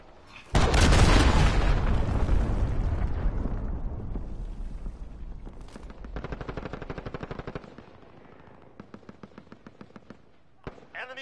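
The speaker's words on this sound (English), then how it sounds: "Enemy cruise missile." A cruise missile strike in Call of Duty: Warzone lands with a sudden loud, close blast, then a long rumbling roar that fades. Crackling, rattling bursts that sound like debris or gunfire continue afterward.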